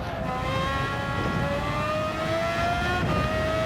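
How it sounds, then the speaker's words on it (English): A race car in a sim racing game at the Spa circuit, its engine droning loud and close, with a steady high whine whose pitch shifts slightly as it changes gear, alone without any voices. "3 downshifts to third gear"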